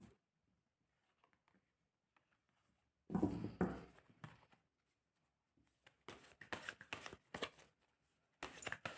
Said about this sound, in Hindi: चलिए अब आपके लिए कार्ड्स निकाल रही हूँ मैं।